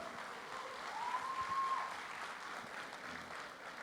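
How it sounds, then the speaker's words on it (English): Audience applause for a film team at an audio launch event, a faint, distant, steady wash of clapping with a brief tonal sound over it. "I think this team requires a huge round of applause from all of you."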